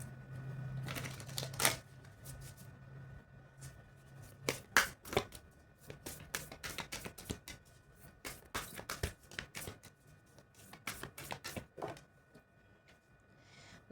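Tarot cards shuffled and riffled close up in irregular bursts of crisp flapping and slapping, with occasional single card snaps as one is drawn, no voices.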